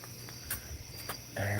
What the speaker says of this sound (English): I hear a good loud cricket now.